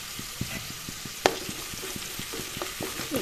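Onions softened in oil with salt and turmeric, stirred in a pan: a steady low sizzle with rhythmic scraping strokes of a spoon and one sharp clink, close by with no talking.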